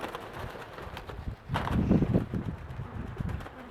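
Fancy domestic pigeons of breeds such as Brodawczaki, Koroniarze, Pawiki, Wywrotki, Krymki and Motyle cooing softly in a loft, low repeated coos rising in the middle against a murmuring background.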